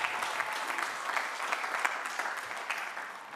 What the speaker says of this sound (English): Give all of them a round of applause